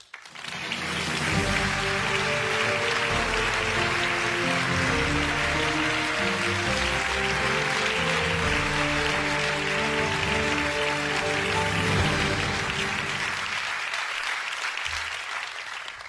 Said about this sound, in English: Please give a big round of applause for Jiří Menzel.